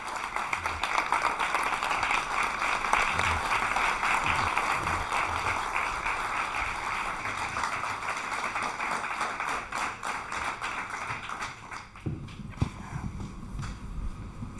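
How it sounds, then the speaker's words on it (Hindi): Studio audience clapping to welcome a guest on an interview show, a steady wash of many hands applauding for about twelve seconds before it thins out and stops. "जोरदार तालियों के साथ बहुत बहुत स्वागत है आपका हमारे स्टूडियो में"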